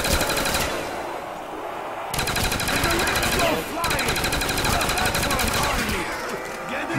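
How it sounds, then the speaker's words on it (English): Automatic gunfire in Call of Duty: Black Ops zombies on PS3, rapid loud bursts of shots with brief pauses between volleys, close and dominant. "Alright, this gun first, because it's almost empty."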